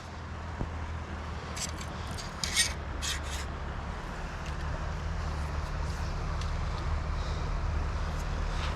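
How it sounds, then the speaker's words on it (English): A close, gritty grinding and rubbing of a fishing reel with sand inside runs steadily throughout, with a few brief raspy scrapes near the start over a low background rumble, by a trout stream. "I must have got some sand in my reel"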